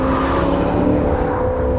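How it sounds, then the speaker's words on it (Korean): A 2017 Maserati GranCabrio Sport's naturally aspirated engine drones and revs as the throttle is pressed and eased, a loud, steady exhaust note with harmonic tones held throughout, no voices. "특히 이렇게 스로틀을 압박하고 풀어줄 때 어떤 그 발의 움직임을 사운드가 참 잘 들려주고 있다는 점도 특징인데요"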